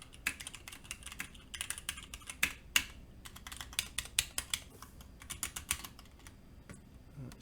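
Typing on a carbon fiber Klippe mechanical keyboard fitted with Tealios switches, Enjoy PBT keycaps and a carbon fiber universal plate: a steady run of crisp, close keystroke clicks with uneven rhythm, heard alone without talk.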